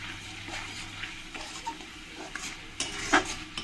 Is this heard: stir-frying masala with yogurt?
yes